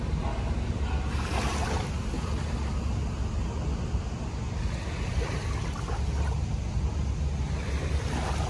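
Sea waves wash steadily at Manila Bay, a broad continuous surf rush mixed with wind buffeting the microphone, moderately loud and unbroken.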